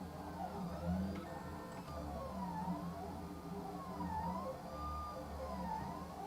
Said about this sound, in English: It's just like your inkjet printer, but the thing is, the sheet onto which the printing is taking place is going down layer by layer